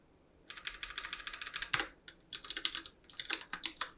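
Typing CSS code on a computer keyboard, with close, quiet clicky keystrokes in quick bursts, a short pause and then more rapid runs of keys.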